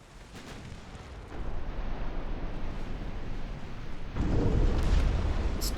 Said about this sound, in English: 2 torpedo hits on Budapest.